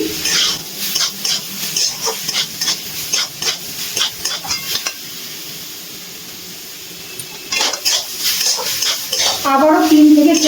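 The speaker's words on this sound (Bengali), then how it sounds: "হলুদ আর লবণ চালটার সাথে ভালো করে নাড়াচাড়া করে মিশিয়ে নিচ্ছি" Chalta (elephant apple) pieces tossed with salt and turmeric in a pan over a medium flame, a spoon scraping and clinking against the metal in irregular bursts, with a quieter pause midway and a faint hiss of heat behind.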